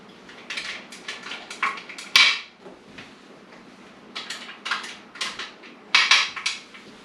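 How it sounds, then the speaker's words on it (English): Metal clanks and scrapes from the wing nuts and lid of a canner being loosened after orange juice canning, coming in short clustered bursts of clinks at close range with brief pauses between them. "so I am going to loosen the wing nuts."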